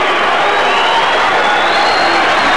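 An Olympic boxing arena crowd roars with cheers and applause, a loud, continuous wash of noise with a commentator's voice running under it.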